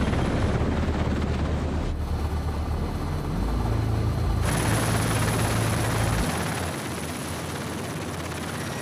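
Helicopter hovering low while setting down a 10-tonne steel load, a loud continuous rotor roar and turbine whine that shifts in tone partway through, with no voices.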